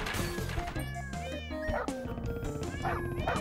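Cartoonish cat meows from the video game Crashy Cats, several rising and falling cries over busy game music and sound effects.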